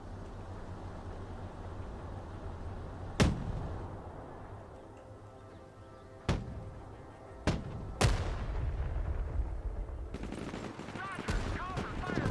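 Artillery fire mission in the video game Broken Arrow: several sharp, loud blasts strike at irregular intervals, the later ones closer together, over a low rumbling battlefield bed while voices talk in between.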